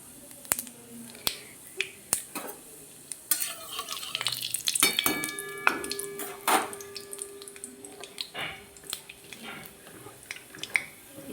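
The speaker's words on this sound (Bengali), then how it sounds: "এবার আমি এতে কালো জিরে ফোড়ন দিয়ে দিচ্ছি।" Nigella seeds tempered in hot oil for a pumpkin and prawn bharta crackle and pop in sharp, scattered bursts, with a soft sizzle and a few clinks of a utensil against the pan.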